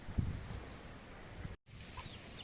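A black Pekin bantam hen with three small black chicks clucks softly outdoors, a faint low cluck near the start over steady background noise, with a brief dropout midway.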